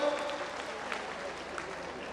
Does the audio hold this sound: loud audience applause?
yes